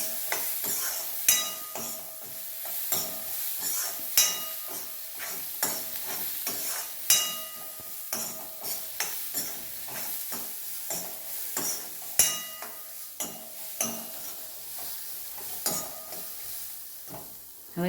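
Boiled legumes (kathod) stirred with roti pieces in a pan, a steady run of soft scraping strokes and light clinks against the metal under a faint sizzle, close and unhurried with no talking.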